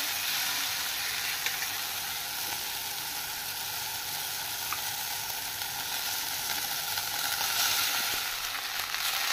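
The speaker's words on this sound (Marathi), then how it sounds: "आता ह्या नूडल्स व्यवस्थितरित्या आपल्याला मिक्स करायचे आहेत" Noodles sizzle steadily in a hot pan with tomato and onion, a constant close frying hiss with faint scraping from stirring throughout.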